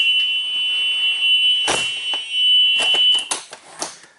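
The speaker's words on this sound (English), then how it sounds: "Again, the alarm will go off to ensure that it's working properly." A steady electronic alarm tone from a school bus emergency exit sounds continuously, loud and close, with clunks and thumps of the door being handled toward the end.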